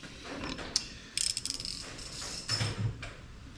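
A 52mm socket on a ratchet tightens a rear hub nut, with several close, quick bursts of clicking pawl ratchets between quieter metallic handling.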